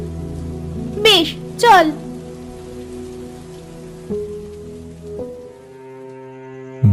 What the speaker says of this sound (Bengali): বৃষ্টিটা বোধহয় একটু কমেছে রে।